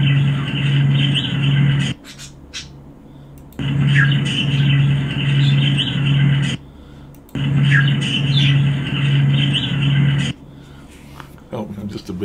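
Bird chirps and tweets recur in bursts under steady talking, with a low humming background between the chirps.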